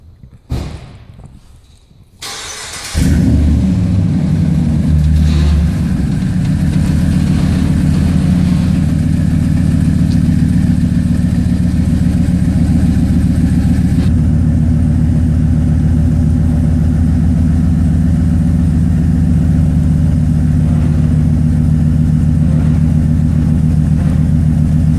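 A pickup truck engine cranks and catches after a couple of quiet seconds, then settles into a loud, steady idle that runs on unchanged and close by.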